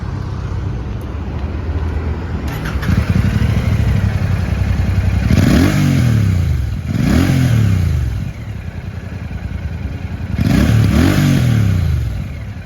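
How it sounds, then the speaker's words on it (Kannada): Exhaust of a Royal Enfield Classic 650 Twin parallel-twin motorcycle rumbles loud and close at idle, with three sharp throttle blips that swell and fall back. "ಎಕ್ಸಾಸ್ಟ್ ನೋಟ್ ಕೇಳಿಸ್ಕೊಳ್ಳೋಣ ಬನ್ನಿ."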